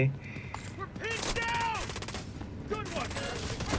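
Rapid automatic gunfire in the mobile shooter Delta Force Mobile, bursts of shots that are loud and close, broken up by short pauses and mixed with game effects and someone talking.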